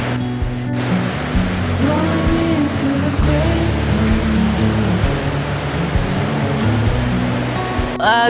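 A river flows beside riverside seating in Kasol in the Parvati Valley, a steady full rush of water running the whole time, with a faint engine-like drone and a brief tonal whine near the end.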